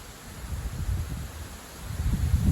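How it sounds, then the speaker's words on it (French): Strong gusts of wind around 80 km/h outside a home, a low buffeting roar over a soft rustling hiss that rises and falls and builds toward the end, with no talking. "Qu'il y a un coup de vent."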